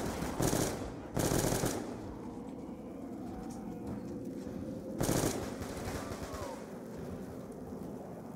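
Pack-a-punched MTAR assault rifle fire in Call of Duty Black Ops 2 Zombies: two quick automatic bursts close together, a lull with faint game ambience, then a third burst, all close and sharp.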